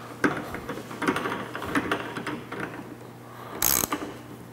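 A ratchet clicks in short bursts while tightening a clamp on Putco CrossRails oval truck bed rails during installation, the quick metallic ticks close and moderately loud, with a brief louder clatter near the end.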